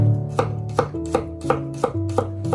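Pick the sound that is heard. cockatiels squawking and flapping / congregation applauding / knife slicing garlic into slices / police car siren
knife slicing garlic into slices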